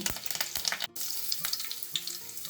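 Curry leaves dropped into hot oil with cumin seeds crackle and sizzle loudly, a dense steady frying hiss with sharp pops, one brief break near the middle, no voices.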